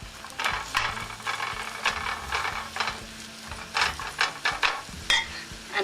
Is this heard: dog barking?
no